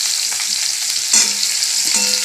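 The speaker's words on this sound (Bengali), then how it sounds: "দেখো ভাজা হয়ে গেছে, কপিটা লালচে ভাব হয়ে গেছে।" Cauliflower frying in oil in a pan for fulkopi roast, a loud close sizzle with occasional scraping stirs against the pan, no voices.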